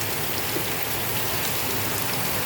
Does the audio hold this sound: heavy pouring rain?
yes